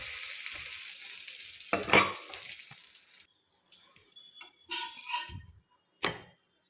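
A dosa cooks in a pan over a low gas flame, giving a faint sizzle that fades out, followed by a few soft scattered clinks and scrapes of a utensil against the pan.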